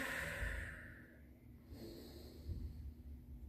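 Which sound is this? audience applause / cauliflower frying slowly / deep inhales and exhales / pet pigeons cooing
deep inhales and exhales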